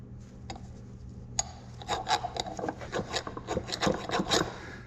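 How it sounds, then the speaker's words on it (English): A hand file rasps against a metal part of a Cockshutt Hydra Power tractor in a series of close, rhythmic strokes that quicken after a few quiet seconds, with no talk. "just needs a little more filing"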